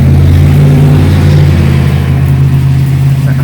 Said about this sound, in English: loud truck, obviously